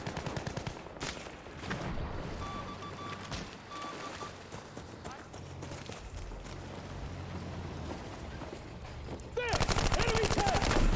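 Sustained Browning machine gun fire from a tank in a combat video game, dense rapid bursts under continuous battle noise, growing louder and harsher near the end, with a voice talking over parts of it.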